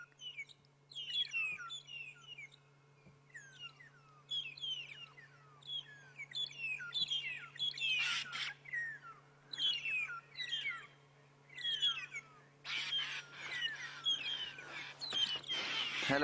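Starlings chirp on a morning safari drive: bright repeated chirps and whistles in short phrases, fairly close, swelling into denser bursts of calling toward the end.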